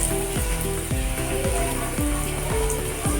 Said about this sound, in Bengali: তেল দিয়ে পরোটা এইভাবে করে ভেজে নেব।